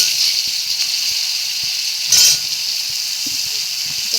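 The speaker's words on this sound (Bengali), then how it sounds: "এদিকে আমি আলুটা একটু ভেজে নেব" Potatoes frying in a pan for a chicken curry: a steady, even sizzle of hot oil runs throughout, with a brief louder burst of hissing partway through.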